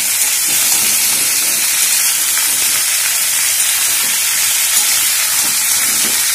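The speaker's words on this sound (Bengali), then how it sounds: "দিয়ে এবার একটু ফ্লেমটাকে বাড়িয়ে আমরা এটাকে ভাজবো" Pumpkin and potato pieces fry in a pan over a raised flame, giving a steady, loud, broadband sizzle with faint stirring scrapes throughout and no talk.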